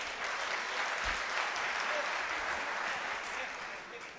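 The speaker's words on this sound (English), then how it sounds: "A huge round of applause for Team PRLT." An audience at a Startup Weekend pitch event in Lithuania gives a team a round of applause, heard as dense, steady clapping that carries through the whole stretch at moderate volume.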